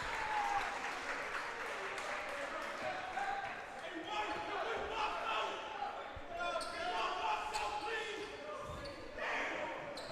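Crowd noise in a high school boys basketball gym at the Viking Invitational, steady murmur and cheering with ball bounces and sneaker squeaks, under a commentator's voice.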